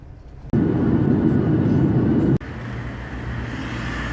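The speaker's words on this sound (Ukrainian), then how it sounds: "нас везе отака машинка" A car speeding at about 150–160 km/h on a road in Turkey, heard as a loud, steady low road-and-engine rumble from close by that changes character abruptly partway through.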